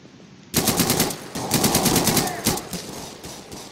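Sudden machine-gun fire in Garry's Mod, loud rapid bursts of shots breaking out after a quiet start and continuing in several close volleys.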